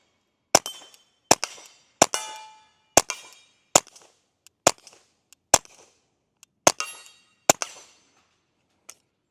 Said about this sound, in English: there is approximately 500 rounds downrange with a Ruger Mark IV 2245 Lite